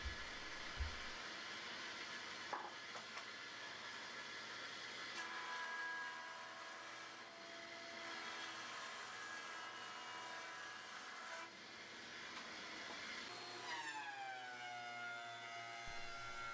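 A jointer flattens one face of wooden leg and rail slabs for a split-top Roubo bench base, a loud steady high whine of the cutterhead running throughout, with the pitch shifting as boards pass over and the machine spinning down.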